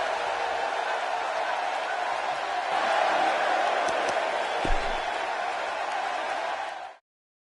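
Live wrestling arena crowd at a one-on-one match cheering and applauding as a steady, dense roar with a few sharp claps and whoops, holding loud for several seconds before cutting off abruptly.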